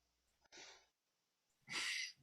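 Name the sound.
sneeze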